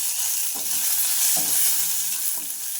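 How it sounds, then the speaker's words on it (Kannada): About fifteen dry red chillies fry in oil in a pan with already-fried garlic over medium heat, for a temple-style pumpkin sambar: a steady close sizzle broken by a few soft stirring scrapes, with no talk. "ಬೆಳ್ಳುಳ್ಳಿ ಫ್ರೈ ಆದಮೇಲೆ ಒಂದು 15 ಒಣಮೆಣಸಿನ್ಕಾಯಿ ಹಾಕ್ಕೊಳ್ತಾ ಇದ್ದೀವಿ."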